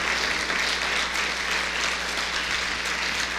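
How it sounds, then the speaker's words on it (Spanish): A church congregation claps loudly for the Lord during a Spanish-language service, a dense, continuous wash of applause with a low steady hum beneath. "Dale un aplauso fuerte al Señor,"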